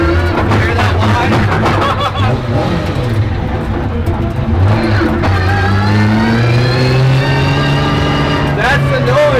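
A 1000 HP JZ-engined pro car drives along with its engine revving and a rising, falling whine climbing through the gears. Loud and close, with people talking and laughing over it.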